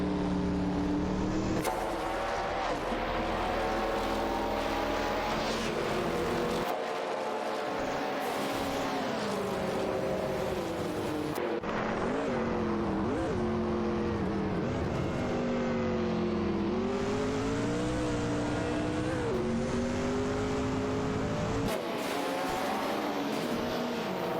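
Chevrolet Camaro IMSA and Toyota Celica IMSA race cars roar through a video game race, loud engines rising and falling in pitch as cars jockey for position, with abrupt cuts between scenes and no speech.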